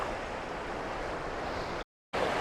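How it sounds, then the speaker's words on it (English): A clear mountain stream flows steadily, a constant broadband rush of water at moderate level, briefly cutting out before resuming. "it's a nice spot to just stop and soak up some water sounds today."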